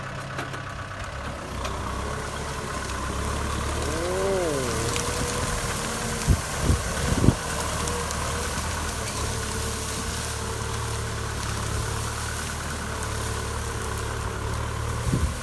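Steady low engine rumble of a Kubota M6040SU tractor idling and chugging while dragging rear tires to flatten overgrown grass, with a couple of brief knocks and a faint mechanical whine.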